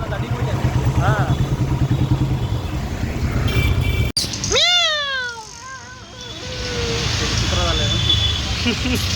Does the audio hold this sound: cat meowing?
yes